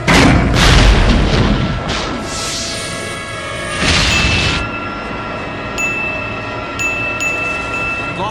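Heavy booming explosions strike a ship's flight deck in the 2000 animated film Gen 13, followed by a rumbling roar and another deep explosion, then fading to a quieter hum with high electronic tones.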